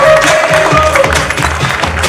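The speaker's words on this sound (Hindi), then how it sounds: "एक बार जोरदार तालियां होना चाहिए हमारे समाज के गौरवों का" Loud, dense applause from a ceremony audience in Bhopal honoring a community figure at a felicitation and book release, steady and close throughout, with faint tonal sounds beneath.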